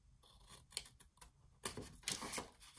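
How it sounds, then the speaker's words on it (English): Scissors snip paper for an envelope mini album, several crisp close cuts in an irregular rhythm, with a louder cluster of cuts toward the end and no talking. "you're gonna go ahead and cut these four out as well."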